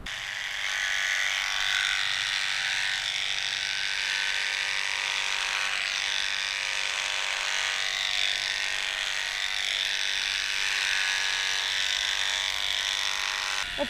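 Electric clippers run continuously as they shave a dog, a steady high buzzing drone at close range with no pauses and no talking.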